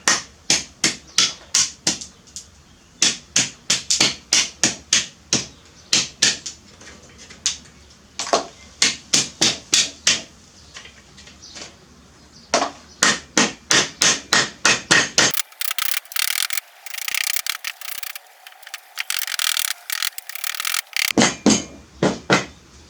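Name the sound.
hammering wood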